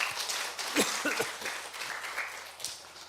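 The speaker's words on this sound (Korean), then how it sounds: "우리 격려의 박수 하겠습니다" Church congregation at a Sunday service applauding in encouragement, a soft continuous patter of clapping with a voice speaking faintly over it.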